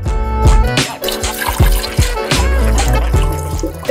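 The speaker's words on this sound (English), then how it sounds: "So pour through a metal sieve to remove the whole spices." Mulled wine with whole spices pours through a metal sieve in a loud, continuous splashing trickle for several seconds, with soft tonal sound running beneath it.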